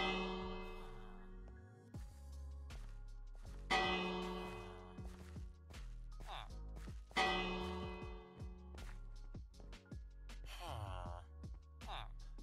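Repeated bell strikes in Minecraft, rung to lure villagers, come as several loud ringing hits with long decaying tones, spaced a few seconds apart, alongside some breathy voice sounds.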